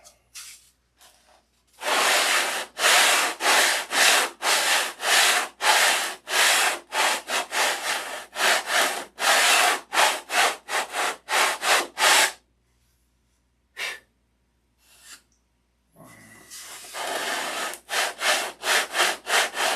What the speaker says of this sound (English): Now I want you to listen to this sandpaper.